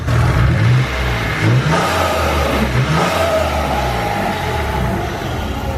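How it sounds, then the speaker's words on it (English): A turbocharged Japanese car engine revving in repeated bursts, each rise ending in a short whooshing blow-off valve release, loud and close. "It's got a nice sounding blow-off valve on it as well."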